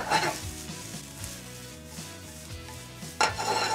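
Mushrooms sauté in a pan with black pepper, a steady soft sizzle broken by a few stirring scrapes and a louder clatter of a utensil near the end.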